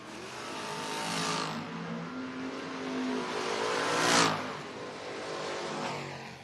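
Drag race cars launch and accelerate hard down the strip, a blue 1987 Fox body Mustang against a 1999 LS-powered S10, engines roaring loud and rising in pitch with a sharp peak as they pass.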